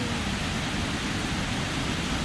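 Steady broadband rush of rainwater gushing out of a stormwater drain set in a wall near Mena Creek on a rainy day, a loud continuous wash close by with no pauses and no talk.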